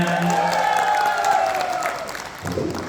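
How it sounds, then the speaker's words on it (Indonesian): Audience at a Kabaya Sinta program launch event applauding, a steady wash of clapping filling the short span, with a tonal musical or vocal line running over it and a brief louder burst near the end. "mana tepuk tangannya?"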